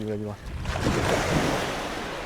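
Ocean waves wash steadily against the shore at night during a conger eel fishing trip, with a broad continuous surf roar and a brief voice at the start.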